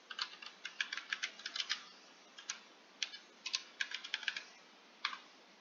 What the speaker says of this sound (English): typing in a little note.